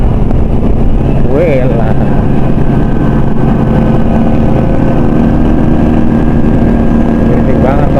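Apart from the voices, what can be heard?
jeep engine passing by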